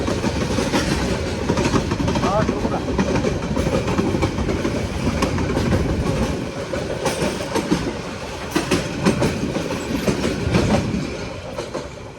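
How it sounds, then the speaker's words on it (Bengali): A Bangladesh Railway Balaka commuter passenger train runs on its rails, producing a loud, continuous close rumble with steady rhythmic wheel clatter throughout. "লোকাল ট্রেনে যাত্রা একটু চাপ হয়"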